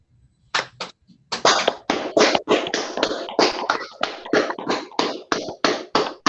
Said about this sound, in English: give our graduates a rousing round of applause